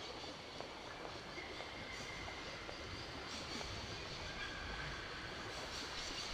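A train in the video game Syberia rumbles steadily with a constant rolling, rattling wash and faint metallic squeals, holding an even level throughout with no talking.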